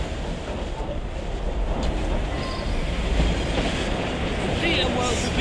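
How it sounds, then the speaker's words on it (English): Steady rumbling train noise inside a passenger carriage in the Assassin's Creed Syndicate video game, a continuous low roar with faint rattling and squeal, loud and unbroken throughout. "it's a noisy train"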